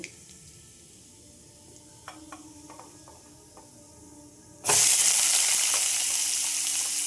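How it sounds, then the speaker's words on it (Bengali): Cumin seeds drop into hot oil with pressed eggplant for a potato-eggplant dish, setting off a sudden loud sizzle that holds steady after a few quiet clicks and taps. "এর মধ্যে আমি দিয়ে দিলাম জিরে ফোড়ন"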